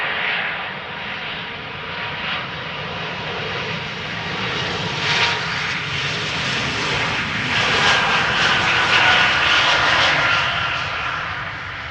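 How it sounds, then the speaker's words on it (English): A KLM Embraer E2 jet roars at Amsterdam Schiphol Airport, its engine noise loud and steady for the whole stretch and swelling slightly toward the end, with no other sounds standing out. "KLM flight 1131 E2 Embraer to Copenhagen."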